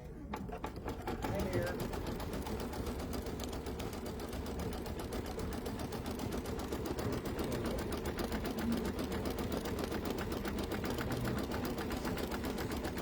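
An embroidery machine stitches a satin fill in teal thread for an ornate pumpkin coaster design, a steady continuous mechanical whir that runs unbroken throughout, with voices talking quietly in the background.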